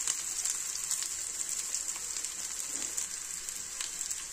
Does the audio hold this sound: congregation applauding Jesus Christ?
no